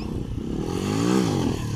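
A motorcycle engine hums steadily while the rider holds a wheelie, with a close, sustained drone whose pitch rises slightly and then eases back.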